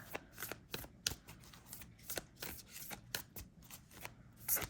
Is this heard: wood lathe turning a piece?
no